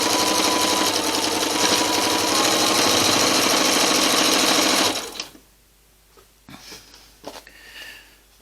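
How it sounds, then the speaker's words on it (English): Sewing machine stitching the four-patch pieces of a Valentine's table runner, a loud steady run of rapid stitching for about five seconds, then it stops and only faint handling noises follow. "keep sewing"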